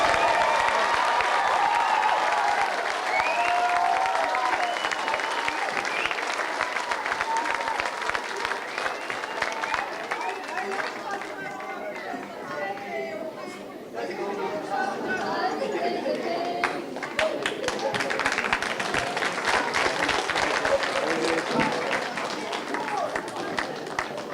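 A concert audience applauds at length after a family group's performance, dense clapping filling the hall with cheers and crowd chatter mixed in, dipping briefly midway before swelling again.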